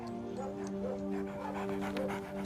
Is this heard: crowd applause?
no